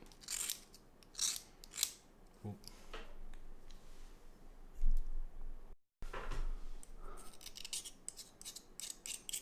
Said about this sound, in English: I'm just using the blade at this point just to give a little bit more of a taper to the very tip of it.